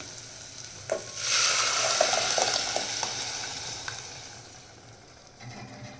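A sudden loud sizzle bursts up as boiled lentils hit hot spice tempering oil, crackling strongly before gradually settling and fading, with a few stirring clinks.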